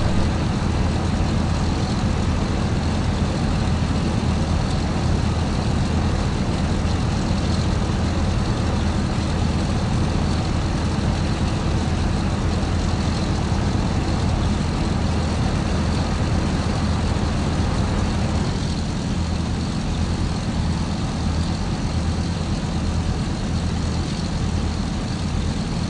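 A World War II-era airlift transport plane in Microsoft Flight Simulator X roars continuously through its takeoff run, a loud, steady, dense engine drone with a slight shift in tone partway through.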